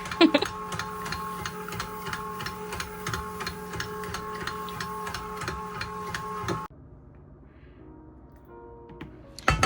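An electric mixer stirring red velvet cinnamon roll batter on low speed, a steady whirring motor with a regular ticking rattle, close by, which stops abruptly partway through, leaving quieter background.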